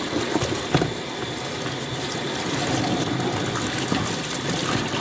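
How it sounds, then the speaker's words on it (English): Tap water runs in a steady broad rush as cauliflower is rinsed, with small clicks and knocks mixed in. "So then I just rinse it. I rinse it a lot."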